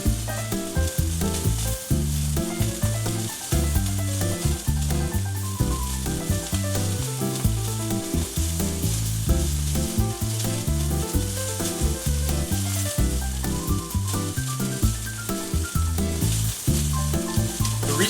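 Flat iron steak sears in olive oil in a pan over medium-high heat, giving a steady, loud, close crackling sizzle that runs unbroken throughout with no voices.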